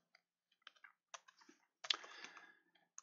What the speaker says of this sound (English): you can just type in to Google